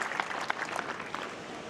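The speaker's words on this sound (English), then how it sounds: "Get a little cheer from the crowd." Crowd at a lawn bowls match applauding a good close bowl, brisk clapping with a few sharper claps near the start, heard at moderate distance and tapering toward the end.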